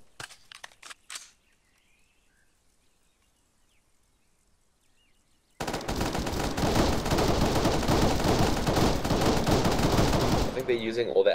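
Heavy sustained gunfire and suppressing fire in a military video game, with loud, dense bursts running continuously for several seconds after a quiet stretch that holds brief talk at the start.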